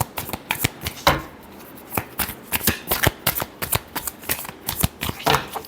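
Tarot cards are shuffled by hand at close range, giving a quick, uneven run of crisp riffling flicks and slaps that goes on for several seconds with no voice.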